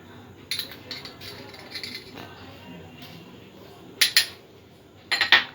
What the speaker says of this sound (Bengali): সব উপকরণগুলো একসঙ্গে ভালো করে মেখে নেব।